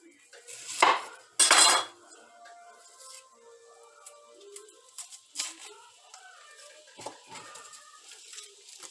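A knife works through an onion on a cutting board, with two louder clattering knocks early on, then sparse light taps and soft clinks of kitchen utensils at close range, fairly quiet overall.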